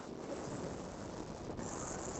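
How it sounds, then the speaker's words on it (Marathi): Strong wind buffets the microphone in a constant low rumbling roar that stays heavy and unbroken throughout, with no voices. "वारा पण फुल सुटला"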